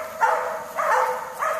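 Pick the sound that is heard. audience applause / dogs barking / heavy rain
dogs barking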